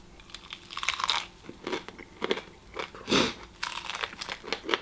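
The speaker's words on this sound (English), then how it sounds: "Oh, you hear that bacon?" Crisp bacon crunched and chewed at breakfast, with a close series of irregular bites and crackly chews, fairly quiet and with no talking.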